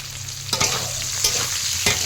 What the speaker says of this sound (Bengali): এবারে আমার টমেটোটা ভালো করে ভাজা হবে